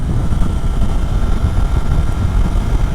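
A 2024 Triumph Daytona 660 motorcycle cruises at speed near 70 mph under light throttle, a loud continuous rumble of engine and rushing wind buffeting the microphone, with no talking.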